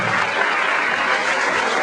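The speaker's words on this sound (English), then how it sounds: "So just give Freddie Fixer Parade a round of applause for 45 years" Dense, continuous crowd applause fills the air at a Freddie Fixer Parade community event in New Haven, loud and even throughout with no distinct voices.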